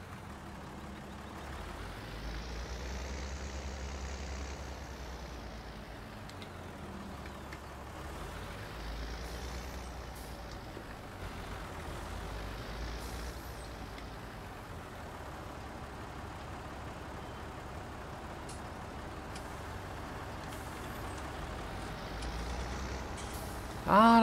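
Truck hauling a load of grass in Farming Simulator 19, a low steady engine rumble with slow rising and falling whines as it drives off, continuous and moderately quiet, ending in a short sharp knock.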